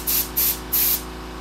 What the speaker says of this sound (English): So it's gonna go from a bullet shot basically to a fanned out spray this way